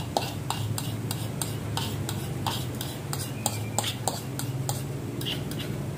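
An omelette fries in a large Teflon pan while a utensil stirs it. Steady, rhythmic clicks and scrapes of the utensil on the pan repeat over a soft continuous sizzle, close and moderately loud.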